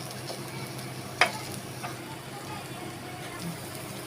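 Rice thalipeeth (dhapate) fries on a hot pan with a steady, even sizzle, broken by one sharp clink of a utensil against the pan partway through.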